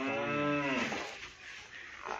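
A cow gives one loud, drawn-out moo nearby during livestock loading, trailing off into low shuffling and ambient noise.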